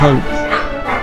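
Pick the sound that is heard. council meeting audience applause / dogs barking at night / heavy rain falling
dogs barking at night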